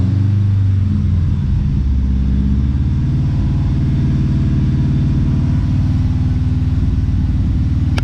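A Subaru WRX engine with a suspected faulty mass airflow sensor is held at a steady 2,500 RPM, giving a loud, even, continuous low rumble throughout with no talking.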